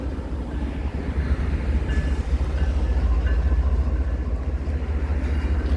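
A freight train of mixed freight cars hauled by ATSF Yellowbonnet diesel locomotives rolls past close by, a loud, continuous rumble with steady rolling-wheel noise and no voices.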